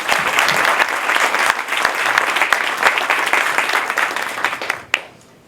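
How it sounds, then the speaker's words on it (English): An indoor audience at an energy-centre event gives the venue staff a round of applause: dense, sustained clapping that carries on for several seconds, then tapers off abruptly with a final sharp clap before falling quiet. "So please give them a round of applause."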